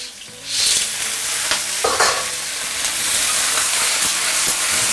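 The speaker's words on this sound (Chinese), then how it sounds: "开最大火给它翻炒一下" Clams stir-fried over high heat with ginger, garlic, fresh and dried chilies and dried Sichuan pepper give off a loud, steady sizzle, broken by the scrape and clatter of a spatula tossing them in the wok.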